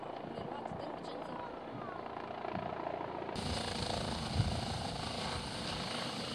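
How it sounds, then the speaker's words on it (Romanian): A helicopter carrying an injured child drones steadily and continuously, fairly loud, with a noisy rotor and engine wash that swells partway through; voices speak faintly underneath. "Elicopterul în care se află copilul"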